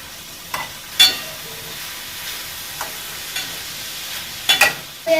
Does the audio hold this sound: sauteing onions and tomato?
yes